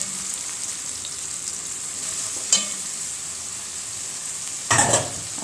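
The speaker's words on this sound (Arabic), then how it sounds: "اشوح البصله بتاعتي" Onion sautés in a pan for a tagine, a soft continuous sizzle with two brief louder bursts of stirring or scraping midway and near the end, no voices over it.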